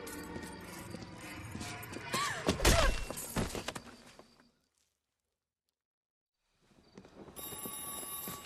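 A telephone rings in L.A. Noire. Clattering, busy noise fades into several seconds of silence, then a bright, shrill ringing starts up near the end.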